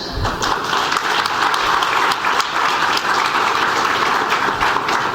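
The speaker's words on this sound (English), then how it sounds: "So she needs a big claps" Sustained, dense applause from the audience at a surgical celebration event, loud and steady throughout with no voices over it.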